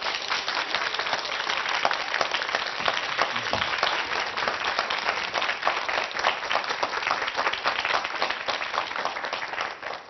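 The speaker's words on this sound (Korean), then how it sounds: "자, 한수위 소장님을 큰 박수로 모시겠습니다." A studio audience at a televised MBC lecture claps loudly to welcome the speaker, Han Su-wi, to the stage, a steady, sustained round of applause from start to finish with no voices.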